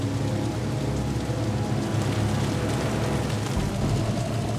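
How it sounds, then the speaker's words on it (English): A heavy rain downpour at an airshow roars steadily and loudly as a dense, hissing wash of water with low rumbling underneath and no voices. "It was buckets. It was a wall of water."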